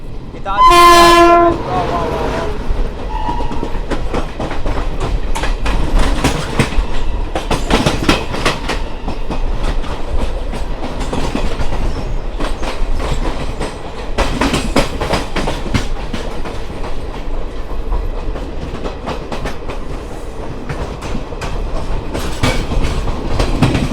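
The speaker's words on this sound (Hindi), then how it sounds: "यहाँ पे और एक ट्रेन आ रही है" An Indian Railways train passes on the line near Mathura, heard from aboard a moving express. A loud horn blast opens, then a long, steady rumble and clickety-clack of wheels runs throughout.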